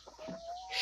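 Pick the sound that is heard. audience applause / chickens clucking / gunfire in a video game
chickens clucking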